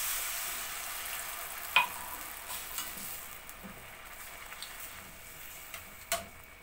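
Water hits a pan of frying vegetables, bringing a soft, steady sizzle with a couple of sharp ticks and pops over a faint hiss.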